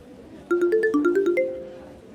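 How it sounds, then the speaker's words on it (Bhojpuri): A mobile phone ringtone plays a short, bright melodic sequence of about eight quick notes, loud and close, with no talking over it. "माँ का फोन है।"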